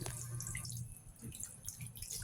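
Water is poured into a pot of pork and tofu adobo in a home kitchen, a faint, soft, steady splashing and trickling.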